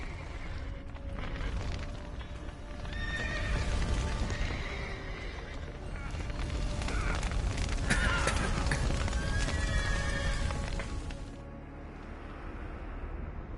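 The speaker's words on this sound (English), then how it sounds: "The horses!" Horses whinny and neigh repeatedly in The Witcher 3 video game, with hooves clip-clopping and rumbling ambient game sound underneath, the cries rising loud and close in the middle before the scene quiets near the end.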